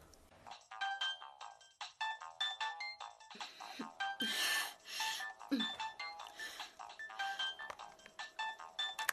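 A telephone ringtone plays a bright, repeating electronic melody in short looping phrases, fairly close, with some rustling and handling noise around it.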